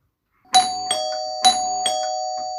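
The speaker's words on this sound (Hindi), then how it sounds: "उसी वक्त डोरबेल बजने की आवाज आती है।" A doorbell rings indoors with two clear ding-dong chimes in quick succession, bright and ringing out alone.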